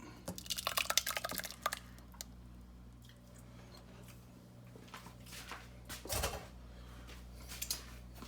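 Thick homemade smoky apple jalapeño barbecue sauce is strained through a strainer into a larger pot, giving quiet, sporadic wet drips and squishes. There is a busier cluster near the start and another burst later.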